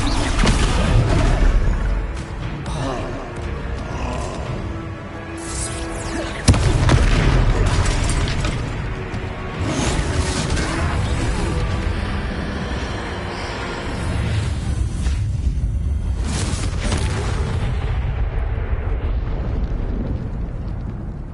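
The Descendo spell slams a troll to the ground in the video game Hogwarts Legacy, heavy booming impacts and rumbling crashes layered with dense battle noise and orchestral sound, loud and sustained.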